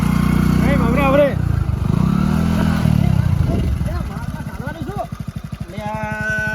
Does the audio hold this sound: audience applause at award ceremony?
no